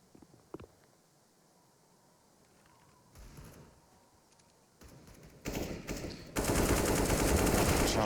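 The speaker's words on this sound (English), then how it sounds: "Shots are going out." Gunfire in a Counter-Strike match on the Cache map, faint early shots building into loud sustained automatic bursts near the end, with no clear talk.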